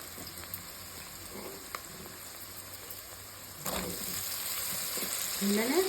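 Cut brinjal pieces hit a hot pan with oil and garlic, giving a soft, steady sizzle with a few clinks of stirring and a louder frying hiss toward the end.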